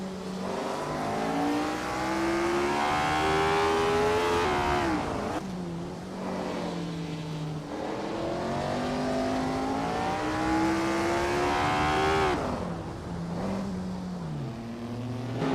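A 1962 Porsche 804 Formula One race car engine screams loud and close, its pitch climbing through high revs and dropping sharply at gear changes, again and again. The engine is heard alone, with no talking.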